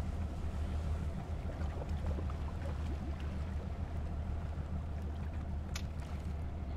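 A fishing boat's engine on the North Atlantic throttles down, a steady low droning rumble with wind and water wash over it, continuous and close throughout with no one talking.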